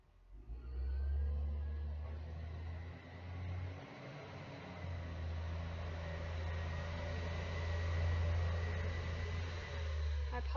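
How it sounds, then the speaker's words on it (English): A rubbish truck passes outside, a loud, steady low engine rumble and whir that swells and dips over the whole stretch, heard from indoors in the background with no talk. "that's just the rubbish truck going past"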